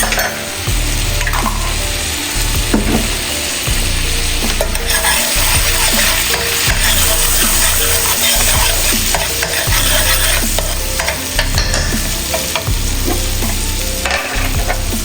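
Garlic frying in a pan for curry chicken rasta pasta, a loud close sizzle with repeated stirring scrapes and utensil knocks against the pan in an irregular rhythm, no talking.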